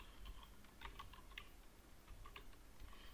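Keystrokes on a computer keyboard while text is typed into a PDF form field, a faint, scattered run of light taps alone at a low level.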